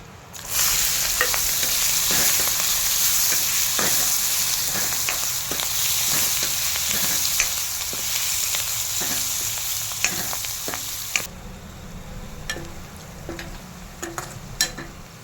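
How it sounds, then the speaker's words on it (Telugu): Onions with a pinch of turmeric, curry leaves and dried red chillies frying in a pan for gongura curry, a loud continuous sizzle with repeated spoon scrapes that quiets to softer sizzling and sparse stirring clicks. "చిటికెడు పసుపు, కరివేపాకు, ఉల్లిపాయలు వేస్తాం"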